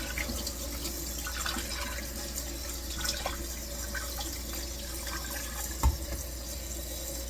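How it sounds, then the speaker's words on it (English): Tap water runs steadily over freshly cooked noodles draining in a sink, a continuous rushing splash close by with one brief clunk near the end. "drain your noodles"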